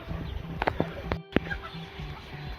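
Hens, including a Polish hen, cluck softly and repeatedly at close range, with a few sharper clicks and bumps in a busy coop, faint voices in the background.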